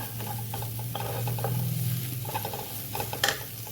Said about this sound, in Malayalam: ശേഷം നന്നായിട്ട് ഇളക്കാം